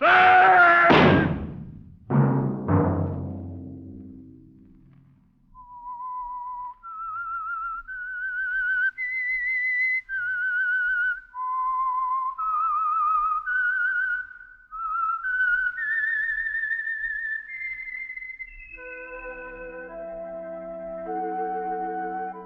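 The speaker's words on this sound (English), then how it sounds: "Let that whistle be your signal for the Signal Oil program, The Whistler" A lone whistler carries the theme signal of The Whistler radio program, a clear, eerie melodic tune of sustained notes that follows a few loud dramatic thuds and orchestral hits, ending as low accompaniment enters beneath.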